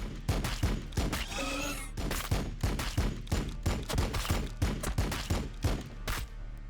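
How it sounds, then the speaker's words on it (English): Units in the Warhammer 40,000: Battlesector video game fire on the enemy in a rapid, steady series of loud, punchy gunshots, with a brief voice line partway through and the volley continuing to the end. "Firing on the enemy."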